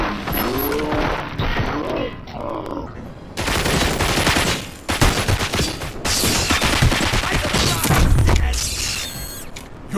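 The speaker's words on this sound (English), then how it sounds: "Fire at will." Gunfire in the video game Robocop Rogue City, loud bursts of rapid automatic shots and heavy impacts with crashing debris, near and dense, broken by short pauses.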